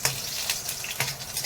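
Ginger sautéing in a pan for chicken tinola, a steady close sizzle and frying crackle with soft bursts of stirring and scraping, no talking.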